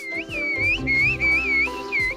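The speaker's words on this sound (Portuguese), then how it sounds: "Idioma do assobio." High, clear whistled tones rise and fall in short, speech-like phrases, several in quick succession, with a low hum beneath.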